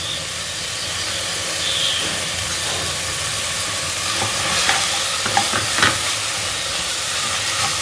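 Spice powders frying in hot oil in a pan for mutton chops masala, with a steady loud sizzle and scraping stir strokes growing more pronounced toward the end; no talking.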